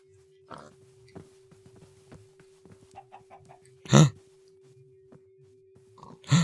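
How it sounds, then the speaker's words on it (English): Chickens cluck in the Minecraft video game, with short clucks scattered across the clip and two louder squawk-like bursts standing out against quiet background ticks and a steady low hum. "You're chicken. Okay, we got a chicken."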